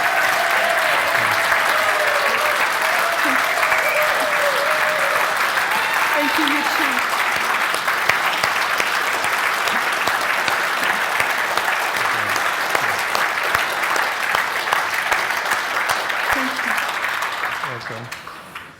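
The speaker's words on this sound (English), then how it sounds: "So let's give her a proper round of applause" A large audience at a talk on the yellow vest movement claps in a loud, steady, sustained round of applause for nearly twenty seconds before it fades away at the end.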